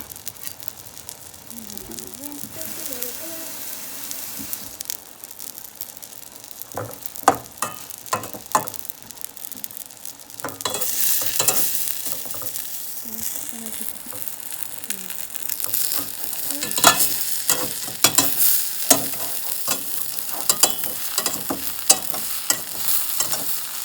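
Omelette with radish greens, collard greens and herb salad sizzling steadily in a pan, with stirring scrapes and several louder clatters from flipping; a voice speaks at times over the frying.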